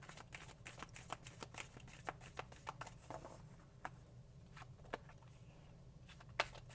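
Long tarot cards are shuffled by hand, giving soft, quick riffling and tapping clicks in an uneven rhythm, close and quiet.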